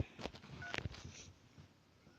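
A phone dials out with a few short electronic tones and beeps in quick succession, faint and close, fading into quiet hiss.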